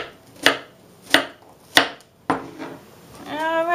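A knife chops through a medium onion on a cutting board in four sharp, evenly spaced strikes, followed by quieter scraping and a rising tonal squeak near the end, close and clear with no talking.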